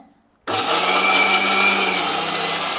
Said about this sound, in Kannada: ಸೊ ಮಿಕ್ಸಿಗೆ ಹಾಕೊಳ್ತೇನೆ